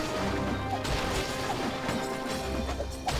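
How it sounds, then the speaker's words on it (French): A tower crumbles in the video game DomiNations with dense crashing and smashing debris, a continuous loud rumble with repeated impacts over about three seconds and no talk. "On va détruire la tour."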